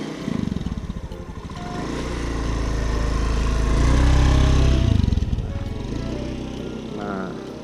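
Automatic motor scooter ridden slowly by a beginner during a lesson, its small engine puttering close by and swelling gradually in the middle before easing off, with voices talking over it.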